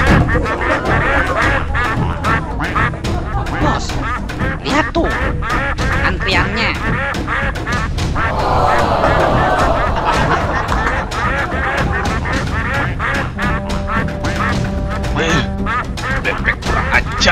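Cartoon ducks quack loudly and continuously in a comic horror cartoon, a dense overlapping chorus of honking quacks, close and busy, with voices mixed in throughout.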